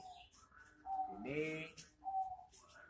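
Captive birds in a breeding enclosure give soft cooing and whistled calls in a few short phrases, fairly near and faint, with background voices.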